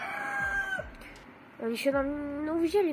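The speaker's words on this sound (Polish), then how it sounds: "kogut pieje" Rooster crowing twice at moderate distance on a farm, each call a drawn-out rising then falling cry, with someone talking quietly over the sound.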